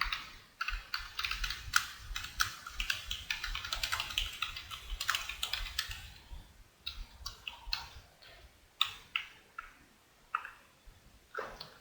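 Fingers type code on a computer keyboard in quick, clattering bursts of close keystrokes, dense at first, then slowing into scattered taps and short pauses, with no talking.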